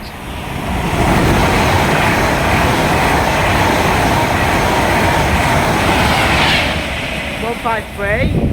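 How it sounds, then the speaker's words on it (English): An Avanti West Coast Class 390 Pendolino passes through Lichfield Trent Valley station in a loud, sustained rushing roar of rail noise that fades toward the end, with people talking over it. "Avanti West Coast 390 Pendolino"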